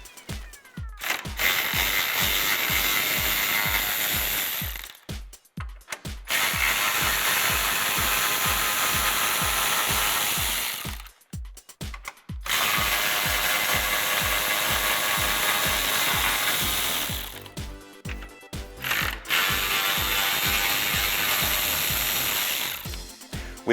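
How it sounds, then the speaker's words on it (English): Socket ratchet clicking rapidly and loudly up close while backing out the 10mm top grille bolts on a 2009-2018 RAM 1500, in several long bursts separated by short pauses. "Grab your socket and remove those bolts."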